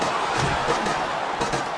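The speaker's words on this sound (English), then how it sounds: "Sounds like this crowd's got something on their minds, King." Arena crowd noise from the WWE SmackDown vs. Raw 2007 video game during a Money in the Bank match, a steady dense roar of cheering and shouting that stays loud throughout with a few brief swells.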